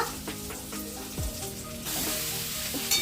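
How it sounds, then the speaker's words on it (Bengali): Chowmein stir-frying in a pan in a home kitchen, giving a continuous close sizzle with occasional scraping stirs that swell louder toward the end. "চাউমিন বানানো হচ্ছে এখানে"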